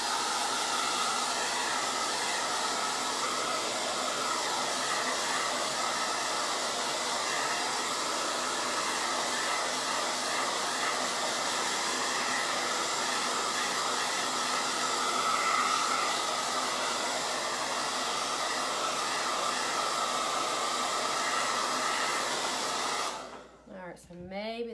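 A hair dryer blows steadily at close range for about 24 seconds while drying a softball glove, a loud continuous whoosh that cuts off near the end.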